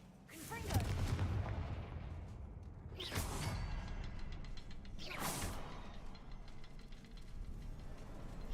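Confringo fire spell cast in Hogwarts Legacy, bursting as two loud, sharp blasts with whooshing tails about two seconds apart, over a steady backdrop of game ambience and rumble.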